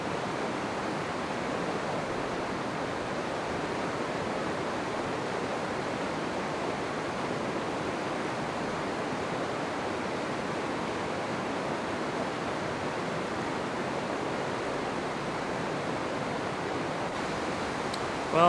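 A river in Yosemite National Park rushes by in a steady, even roar of flowing water that holds constant throughout, with no voices.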